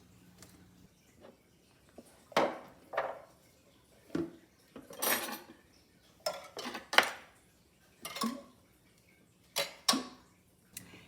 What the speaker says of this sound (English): I'm going to add my dirty dishes to the sink.